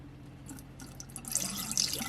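Water poured off a container of rinsed live blackworms, beginning as faint drips and trickles, then swelling into a brighter, louder splashing pour in the second half.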